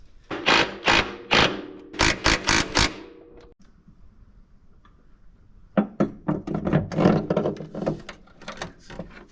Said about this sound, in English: A combination of mini extensions and a torque wrench, torque to 80 foot-pounds, gets those bolts tightened up.